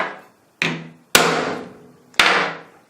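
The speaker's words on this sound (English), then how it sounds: "Quick center punch" Hammer blows striking a center punch set against aluminium tube: three sharp, ringing metallic taps at uneven intervals, close and clear, each with a short decaying ring and no talk.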